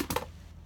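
A few quick crisp snips as scissors cut through a dog dental treat, sharp short clicks close by, followed by a brief pause and one more cut.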